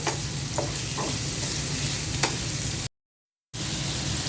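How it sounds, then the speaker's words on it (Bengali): Prawns fry with onions in a pan, a loud, close, continuous sizzle and crackle with a few stirring scrapes. The sound cuts out completely for a moment, then resumes. "চিংড়ি মাছটাও ভাজা ভাজা করব পেঁয়াজের সাথে"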